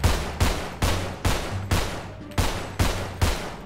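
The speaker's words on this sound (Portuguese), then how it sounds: "que barulheira de tiro" Gunfire in GTA 5 roleplay: a steady series of about eight loud, evenly spaced shots, each a sharp crack with a trailing decay, filling the scene with no talk over it.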